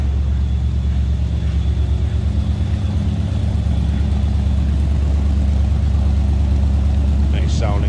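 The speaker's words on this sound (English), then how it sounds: "Nice sounding car." A 1964 Ford Galaxie 500 idles close by with a steady, deep rumbling throb that holds an even rhythm throughout, with a faint brief sound near the end.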